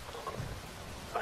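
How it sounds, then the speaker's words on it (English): Rain and thunder in a game scene, a steady broadband wash of falling rain with a low rumbling swell in the middle, heard alone at moderate level. "Rain falls."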